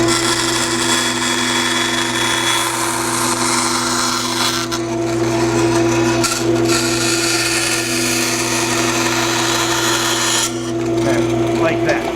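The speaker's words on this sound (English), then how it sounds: "we're just going to cut those on the bandsaw quick" A bandsaw cuts small wood pieces for an acoustic guitar build, a loud continuous whine and rasp of blade through timber with a steady motor hum, cutting load dipping briefly twice along the way.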